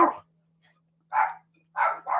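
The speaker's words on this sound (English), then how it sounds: "as soon as the dogs will stop barking" Dogs bark in short, separate bursts: one bark, a pause, then another, then a quick pair close together, fairly near and clear against a quiet room.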